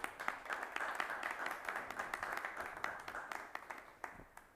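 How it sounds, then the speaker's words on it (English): A seated audience at an inaugural conference panel session applauds a panel guest with steady clapping, fairly faint and moderately sized, lasting several seconds before tapering off. "Applause for him."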